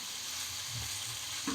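Prawn pulao being stirred in a frying pan gives a soft, steady sizzle with faint scraping of the stirring, close and quiet, with no talking.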